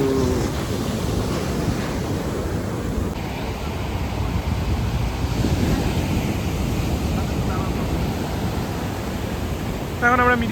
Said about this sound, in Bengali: এখন আমরা ভারত মহাসাগরে স্নান করতে নেমেছি।